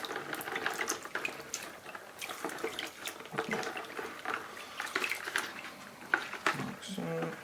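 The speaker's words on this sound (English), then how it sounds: "cleaning it in the water that I've siphoned out of the tank" An aquarium filter sponge from a three-stage saltwater tank filter is squeezed and rinsed in siphoned tank water, giving steady close sloshing and splashing with small clatters throughout.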